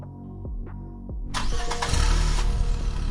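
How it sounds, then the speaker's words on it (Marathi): A car engine cranks and catches after a few low thumps, then roars into a loud, steady, throbbing run close by. "भाऊ गाडी स्टार्ट झाली"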